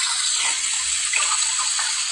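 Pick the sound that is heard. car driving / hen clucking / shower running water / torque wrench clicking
shower running water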